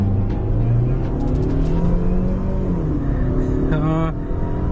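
A 2023 Range Rover Evoque engine pulling hard under acceleration during a pull test, with a sustained rising engine drone and a voice speaking over it.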